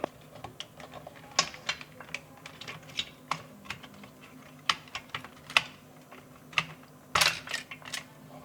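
Small screws are removed from the motherboard of a Taranis QX7 radio transmitter, giving faint, irregular clicks and light metallic taps from a close tool, spaced out over several seconds.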